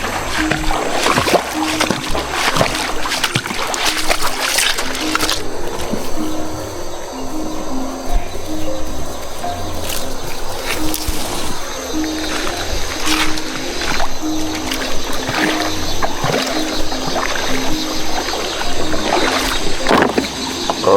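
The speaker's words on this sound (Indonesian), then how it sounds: "Kita menggunakan mesin 5 PK." A small wooden boat driven by a 5 PK outboard engine travels upriver through the Kalimantan forest, its engine droning steadily and close throughout, with water rushing and splashing along the hull.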